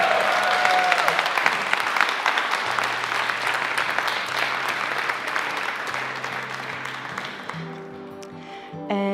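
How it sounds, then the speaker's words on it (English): Audience applause at a sustainable tourism award ceremony in Cascais, continuous clapping that gradually fades, with a low hum beneath and a tonal musical sting rising right at the end. "So please give them a big round of applause for their participation."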